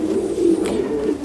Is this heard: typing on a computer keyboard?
no